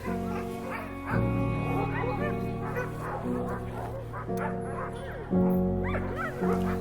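Husky sled dogs in Finland bark, yip and whimper in an excited chorus, repeated overlapping calls from several animals at close to middle distance.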